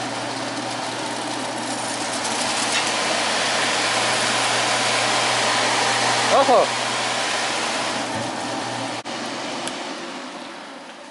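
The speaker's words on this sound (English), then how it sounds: "that motor might actually be powerful enough to spin that blade with no restriction at all" A small direct-drive barrel fan motor spins its blade at full speed, giving a steady loud whooshing hum with a low tonal drone throughout, while a voice briefly speaks partway through.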